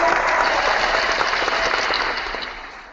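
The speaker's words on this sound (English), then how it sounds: "have the crowd clap for you whenever you say your name" Crowd applause sound effect on a tennis podcast, a steady burst of clapping from many hands that swells briefly then fades out over a few seconds, heard alone.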